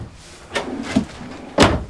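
Sliding rear closet door inside a 2021 Grand Design Solitude 346FLS fifth-wheel RV, with a soft thump, a brief rolling slide and a firmer knock as it closes, heard close up with no talk.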